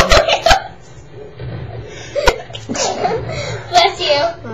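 A young person's sharp, close sneeze bursts out at the start, followed by laughter and chatter among brothers.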